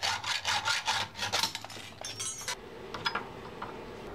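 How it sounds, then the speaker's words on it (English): A metal axle pin on a caster wheel being cut away, giving a run of rasping, grinding strokes close up that fade into lighter scraping and a few clinks. "I'm going to remove this wheel by cutting away the axle pin."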